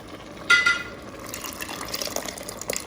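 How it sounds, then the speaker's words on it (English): Cream mixture is poured into creamy chicken and wild rice soup, a brief splashing pour at the start followed by soft liquid sloshing and stirring sounds, close and moderately loud, with no talk. "we're gonna add all of the cream mixture and just stir it up"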